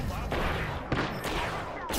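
Rapid bursts of video game gunfire from a shooter match, several dense volleys packed into two seconds at steady moderate loudness, a voice faintly talking underneath.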